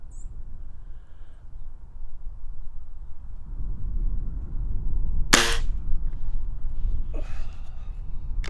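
A Walther LGU air rifle fires a pellet with one sharp, close crack over a quiet outdoor background, followed moments later by a fainter secondary snap.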